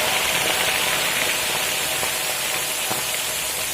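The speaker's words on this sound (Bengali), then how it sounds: "দেখুন তেলটা গরম হয়ে গেছে এবার এখানে চিংড়ি মাছগুলো ভেজে নেবে" Prawns frying in hot refined oil give off a loud, dense, steady hiss and crackle close up, unbroken for the whole stretch with no talking.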